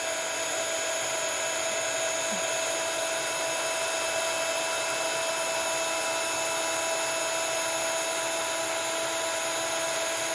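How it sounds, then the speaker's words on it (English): A heat gun held still over embossing powder on a stamped card, blowing a steady, unbroken whine with a high-pitched motor tone that stays even and close throughout. "So all we're doing is just holding the heat gun still"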